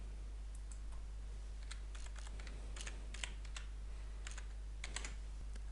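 Someone types a username and password on a computer keyboard, producing quick, irregular bursts of light key clicks over a steady low hum.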